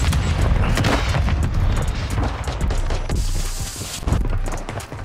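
Gunfire and booming blasts from the video game Call of Duty Warzone 2.0 during a desert firefight, dense and continuous with sharper bursts near the end.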